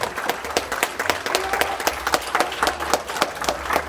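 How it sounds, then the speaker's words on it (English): A fight night audience applauds after a bout goes the full three rounds, loud, fast, steady clapping from a crowd with sharp individual claps standing out. "Both these two deserve another massive round of applause from all of you."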